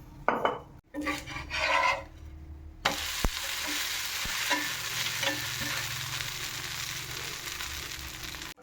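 Dosa batter frying on a hot pan, a steady loud sizzle after a few stirring and scraping sounds, with occasional utensil taps.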